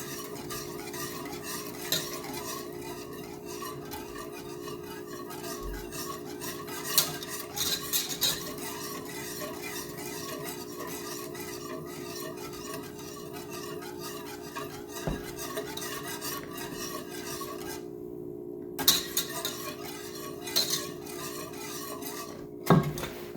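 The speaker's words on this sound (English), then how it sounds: "I'm just gonna sit here stirring it constantly for 3 minutes" A spoon stirs sweetened condensed milk in a pot with a steady, scraping swirl that never stops, plus occasional louder metal knocks against the side. The stirring is close and continuous, with no talking.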